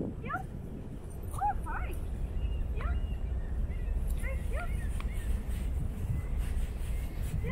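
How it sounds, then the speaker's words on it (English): A one-year-old Mini-Bernedoodle whimpers and gives short, high yips in scattered bursts throughout, close and fairly clear over a low background rumble. "she's a super happy dog"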